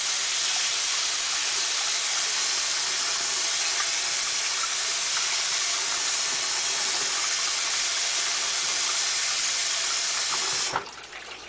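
Water running steadily from a kitchen tap to rinse out a bowl, a continuous close hiss that cuts off abruptly near the end.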